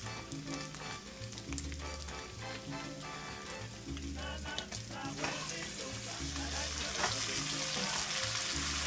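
Ground beef for enchiladas frying in a pan over medium-high heat, a continuous loud sizzle with scraping stir sounds, close up, while music plays underneath without talking.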